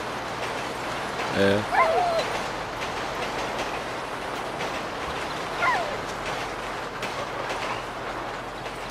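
A train rumbles past in the video game GTA V, a steady dense roar with a faint rhythmic clatter throughout, with a dog barking briefly and a person speaking.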